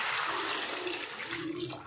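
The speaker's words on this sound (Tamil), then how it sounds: "இப்போ வந்து தண்ணி சேர்த்துக்கலாம்" A steady rushing pour of water splashing into a cooking pot of quail gravy, continuous and fairly loud for the whole moment.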